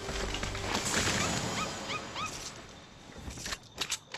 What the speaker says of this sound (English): Please stop barking, little guy.